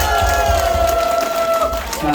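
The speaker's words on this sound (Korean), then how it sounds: "열심히 신곡을 강의해주는 송강호가 박수 한 번만 주시면 감사하겠습니다" An audience at a Korean singing class claps and cheers for the instructor, a dense burst of clapping from a full room with a steady tone ringing beneath and a voice briefly audible.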